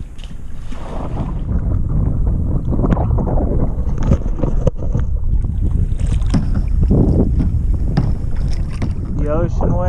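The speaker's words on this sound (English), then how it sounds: "The ocean waves, woohoo!" Steady wash of wind and ocean waves around a kayak off St Thomas, with splashing and sloshing throughout and faint voices in the mix.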